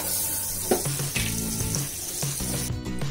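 Butter sizzles in hot oil in a pan while spicy butter garlic prawns are being made, a steady frying hiss with a few small clatters.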